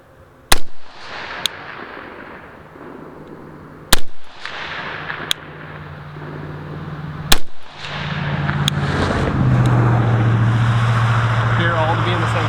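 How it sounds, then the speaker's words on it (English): An ACR DMR rifle firing at a target: several sharp, loud gunshots spaced a few seconds apart, each followed by a brief echo, with a steady hum rising in the background toward the end. "So again, now we're shooting at the top right target."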